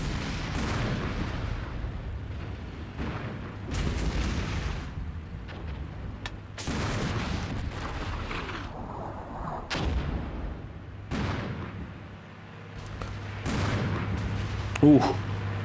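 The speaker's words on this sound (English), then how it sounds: "The NATO forces seem to have like unlimited artillery." Repeated booming artillery blasts and rumbling impacts from the modern warfare video game Armored Brigade II, with NATO barrages landing every second or two while a person talks over the explosions.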